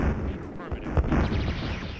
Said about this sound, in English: The walls also have explosion noises?